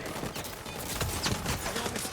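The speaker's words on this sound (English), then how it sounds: "I kind of want to talk about the gunplay and how it feels to shoot the guns at the dudes" Rapid gunfire from shooting guns in the video game Highguard, dense and continuous bursts of shots layered over busy game noise, with no talking.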